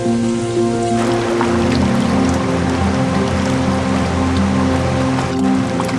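A waterfall where salmon gather at its foot gives a steady, loud rush of falling water with a hiss like heavy rain. Music plays underneath the water sound.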